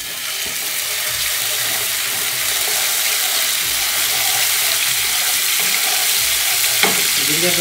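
Cumin seeds and ginger garlic paste sizzle steadily in a hot pan, a constant loud frying hiss with occasional stirring scrapes and a brief clink near the end.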